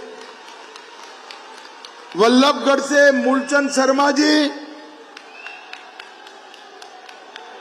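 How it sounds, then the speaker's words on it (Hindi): At a Faridabad political rally in Haryana, a crowd bursts into loud cheering and applause for about two seconds, between a man announcing names over a loudspeaker. "ताली बजाओ सतीश जी के लिए"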